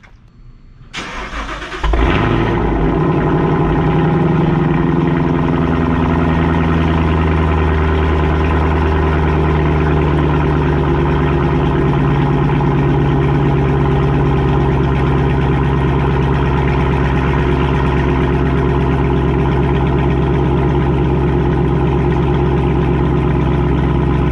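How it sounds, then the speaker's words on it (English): A twin-turbo V6 Mustang engine cranks briefly on a cold start, catches and roars up loud, then settles into a steady, deep idle that runs on without a break. "good time to show up some nice cold starts on the cars"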